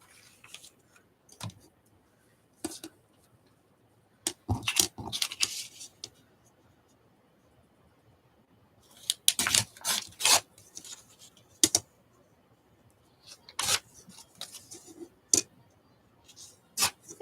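Scissors snip through a glossy magazine page during a collage and journaling session, giving short crisp cuts and paper rustles in scattered bursts with quiet gaps between them.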